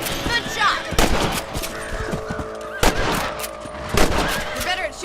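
Several rifle shots ring out at uneven intervals while hunting rabbits in the PS3 Western game Red Dead Redemption, sharp cracks with echoing tails over outdoor ambience, with a voice talking in between.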